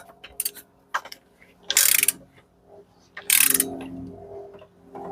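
A ratchet wrench tightens the bottom bolt of a trailer hitch on a 2004–2010 BMW X3. Bursts of rapid clicking come close by, with pauses and softer clunks between them.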